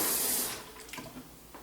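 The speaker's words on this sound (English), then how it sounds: "So once you've added some warm water, enough to stir it in," Warm water pours from a tap into a brine mixture for a whole chicken, a loud hissing splash at first that fades into softer trickling and a few light drips.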